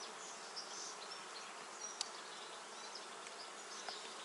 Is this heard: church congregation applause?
no